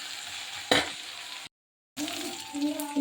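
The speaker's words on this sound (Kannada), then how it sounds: "ಸೊ ಹಾಗಲಕಾಯಿ ನೋಡ್ತಾ ಇದ್ರೆ ಸೊ ಬ್ಯೂಟಿಫುಲ್ ಆಗಿ ಫ್ರೈ ಆಗ್ತಾ ಇದೆ" Bitter gourd frying in a pan with garlic and onion, a steady soft sizzle broken by a clink of stirring and a brief gap of silence before the frying resumes.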